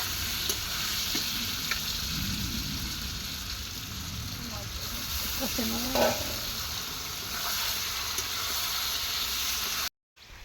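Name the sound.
meat frying with spices in a pan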